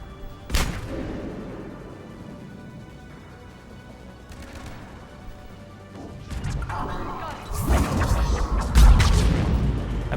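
A grenade blast in Mass Effect 3 on Mars, a heavy crashing boom near the end following an earlier sharp impact, with low rumble and debris noise over a murky combat background.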